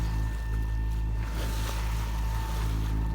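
A sailboat's steady engine drone hums continuously with a constant tonal whine, overlaid by soft wind and water wash as it motors on calm sea near Saint Martin.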